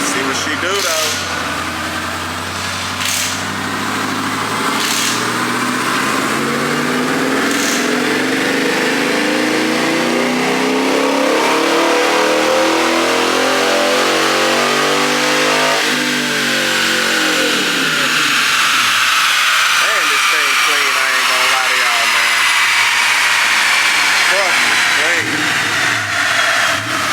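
A turbocharged 426ci Hellcat engine fires up for the first time and revs hard, loud and close, climbing and falling through repeated throttle blips over a steady idle, with voices talking now and then.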